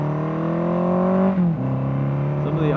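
A motorcycle engine downshifts into first gear through a sharp turn on a winding mountain highway, a steady close engine drone that blips and dips in pitch midway before settling again, heard alone.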